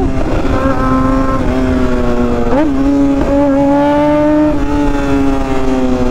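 A Yamaha R1M motorcycle engine drones loud and close at a steady pitch, with a couple of brief upward blips in revs partway through and a constant rushing roar beneath it.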